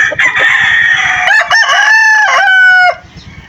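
Roosters crow loudly and close by at a poultry yard, one long drawn-out cock-a-doodle-doo with rising and falling pitch that ends abruptly, with soft clucking underneath.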